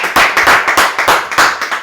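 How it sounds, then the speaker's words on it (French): A church congregation claps in rhythm during a worship service, steady loud hand claps at a brisk regular beat, close and filling the short moment without speech. "applaudissons le Seigneur"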